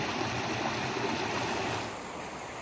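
Water rushes and splashes steadily over small rocky drops of a woodland creek in southeast Missouri, a close, continuous burbling of a little stream that softens slightly near the end.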